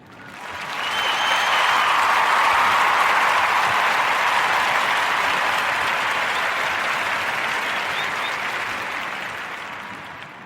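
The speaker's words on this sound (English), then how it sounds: "I'm going to give him another round of applause" A large audience breaks into sustained applause, a dense, even roar of clapping that swells within the first second, holds steady for about nine seconds, then slowly tapers off.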